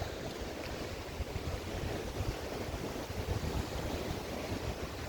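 Sea waves wash onto the beach at Prymorsk in the Odesa region on a cool late-August morning, a steady soft surf roar mixed with gusty wind buffeting the microphone, no voices.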